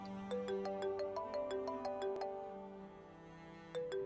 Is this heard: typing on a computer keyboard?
no